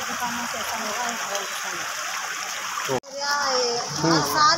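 Floodwater runs and splashes through streets of the Patel Nagar area after heavy rain, a steady rushing wash with splattering close by, while a person speaks over it throughout.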